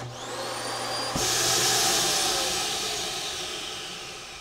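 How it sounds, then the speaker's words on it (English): A ReadyVac central vacuum sweep inlet in an RV travel trailer runs as a steady whooshing hiss, with a higher motor whine that drops after a sudden shift to a broader, louder airflow roar. "just sweep it right on into your ReadyVac"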